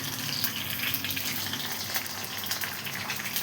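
Dried red chillies, green chillies, garlic and curry leaves frying in hot oil, giving a steady, dense, close sizzle with no pauses and no talking.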